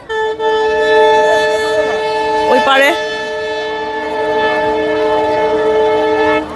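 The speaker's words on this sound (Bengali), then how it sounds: "এই যে পাশের দিকে ট্রেন যাচ্ছে" A train passes close by at Badarpur's Siddheshwar ghat on the river, its loud sustained horn blaring in layered tones over a steady rumble, with a short burst of voice partway through.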